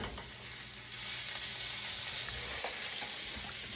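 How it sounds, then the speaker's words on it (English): Cabbage being stirred in a frying pan, cooked with onion and a link of sausage: a steady, close hiss of frying with soft scraping from the stirring and one small clack near the end, no talking. "Let's stir our cabbage, see how it's doing."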